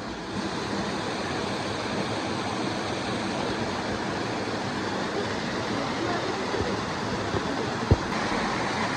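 Rani Jhula waterfall at Nagarkot rushing in a constant, dense roar throughout, loud and close with a slight windy edge and one brief knock near the end.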